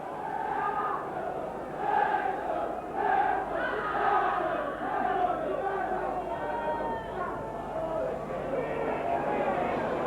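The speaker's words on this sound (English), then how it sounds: "the Welsh crowd behind their goal, trying to roar their team on here." A Welsh football crowd at the 1989 Fourth Division play-off final between Leyton Orient and Wrexham roars and chants from behind the goal, swelling in loud rhythmic surges under steady crowd noise throughout.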